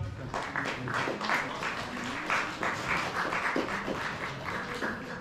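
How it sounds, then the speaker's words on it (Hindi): Steady applause from a crowd at a school prize distribution ceremony, dense clapping that holds at an even level for several seconds with no talking over it. "तालियों में बिल्कुल कमी नहीं होनी चाहिए"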